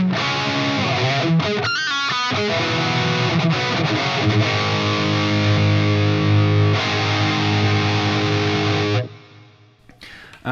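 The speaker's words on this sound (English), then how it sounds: "the mids will overdrive, go into distortion, but the low end will remain tight and focused" An electric guitar through a mid-boosted overdrive pedal plays loud, saturated chords and riffs with a tight low end for about nine seconds, then cuts off into near silence.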